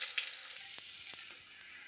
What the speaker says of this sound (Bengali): পটল বাটাটা ভাজা হচ্ছে।